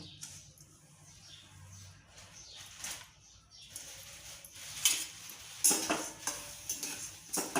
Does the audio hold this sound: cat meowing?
no